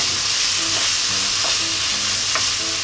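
Onion, bacon and garlic fry in a pan for a potato gratin, giving a dense, even sizzle with soft stirring taps and scrapes layered on top, heard close and loud without any talking.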